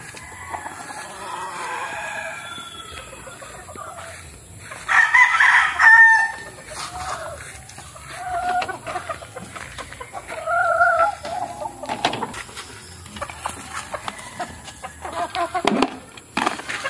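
Backyard hens and a rooster at about five months old, clucking and crowing in bursts around a farmyard at feeding time, with a loud crow near the middle and scattered clucks throughout.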